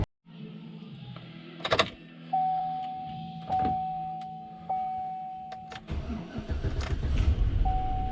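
A GM GMT-900 full-size truck V8 with Active Fuel Management cranks slowly through several chirping starter attempts with clicks and whirs, then catches and settles into a rough idle, heard close up.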